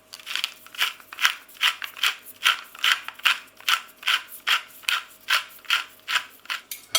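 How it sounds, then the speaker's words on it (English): Pepper grinder cranking black pepper into a tomato galette filling, a close, crisp ratcheting crunch repeated in a steady rhythm of about two twists per second, with no voices over it. "Going to add plenty of black pepper."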